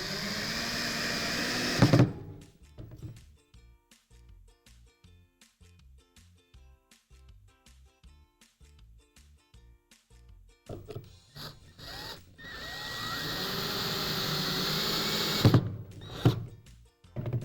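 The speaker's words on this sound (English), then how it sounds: "I'm just gonna get my screws going now" A power drill drives screws into a DIY end table through pre-drilled pilot holes in wood, whirring in sustained loud bursts at the start and end, with a stretch of softer rhythmic ticking and clunks in between.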